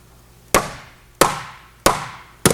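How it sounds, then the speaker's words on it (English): A hammer strikes a sheet metal panel during shaping, four sharp, evenly spaced blows that each ring briefly and fade, close and loud with no talking. "So you just sculpt it with the hammer."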